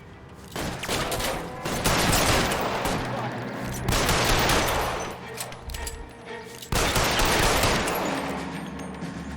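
Heavy gunfire in the video game LA Noire during a shootout against security men, with loud sustained bursts in three long waves and brief lulls between them.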